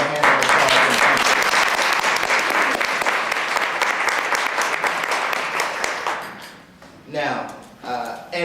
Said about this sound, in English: I want to give you another hand of applause.